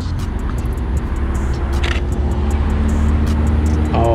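A nearby car engine hums steadily at low pitch throughout, with faint scattered clicks and small rattles on top.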